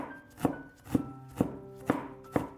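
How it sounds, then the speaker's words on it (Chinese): A knife mincing ginger on a cutting board: five crisp, evenly spaced chops about half a second apart, close and fairly quiet, with faint ringing between strikes. "再切成细丝，最后给它切成姜末"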